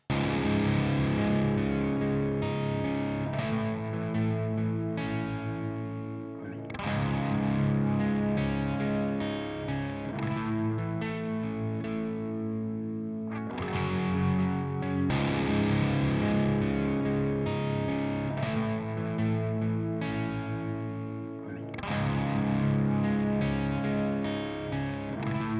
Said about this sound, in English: here it is with the guitar volume backed right off to almost off, still on the high gain channel